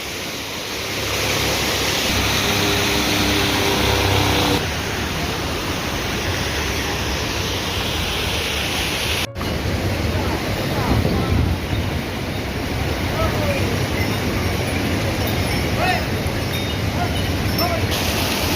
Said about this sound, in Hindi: वो इस गिरते हुए झरने को पहचानते हैं।